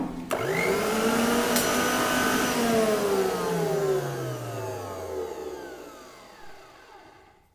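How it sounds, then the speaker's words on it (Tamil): A Preethi Zodiac mixer grinder grates carrots with a loud, close motor whine. The whine rises quickly at the start, holds for several seconds, then winds down in a falling pitch as the motor slows to a stop. "நான் வந்து இப்போ கேரட் கிரேட்டிங் பண்ண போகிறேன்."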